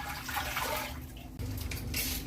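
Water poured from measuring cups into a container for kosher dill pickle brine, a soft, close splashing and trickling that pauses briefly before resuming.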